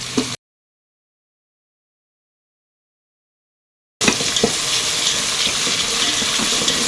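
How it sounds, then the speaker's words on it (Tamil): Onions sizzling and sautéing in hot oil in a pan, a steady close crackle that starts abruptly after a silent gap and continues with no talk. "எல்லாமே வந்து எண்ணெயில் நல்லா வதங்கணும்"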